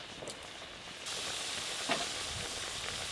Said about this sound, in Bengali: গ্রেভি ভালো করে ফুটে গেছে, ভেজে রাখা তোপসে মাছগুলো দিয়ে দেবো।